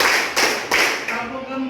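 A classroom of students claps together in a counted rhythm: four loud, evenly paced group claps in quick succession, with a voice starting faintly as the last one fades.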